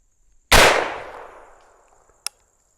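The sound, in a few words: Winchester 53 rifle in 25-20 WCF firing into pumpkin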